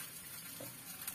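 A semolina snack fries in a pan with a little oil just after being turned over, giving a soft, even sizzle close by and fairly quiet, with no talking over it.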